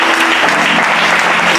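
A church congregation applauds the pastor with loud, dense clapping that fills the space evenly and steadily throughout, with no voices standing out.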